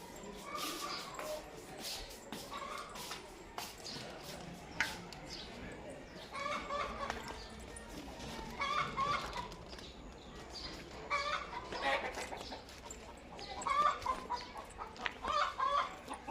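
Backyard hens cluck in short repeated bursts from close by, coming in clusters that grow busier toward the end, while people talk intermittently in between.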